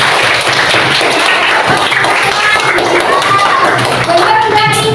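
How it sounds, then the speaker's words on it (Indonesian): Classroom clapping from a group of pupils fills the whole span as a dense, steady patter of hand claps, with children's voices chattering underneath. "Yudi, tepuk tangan buat Yudi."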